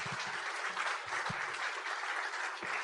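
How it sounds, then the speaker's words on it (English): Audience applause at an evening health and wellness lecture, a steady wash of clapping that holds for about three seconds without any talking. "Let's give a round of applause for Sika."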